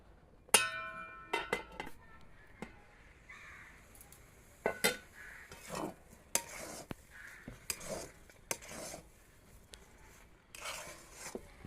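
A metal lid is set on a cooking pot of dalia pulao, giving a sharp clang and then a series of lighter clinks and scrapes of metal on metal, close but fairly quiet, with no voices.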